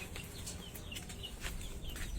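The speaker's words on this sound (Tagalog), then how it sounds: "mga manok" Chickens at a backyard coop cluck softly and irregularly, faint short calls over low background noise, with no talking.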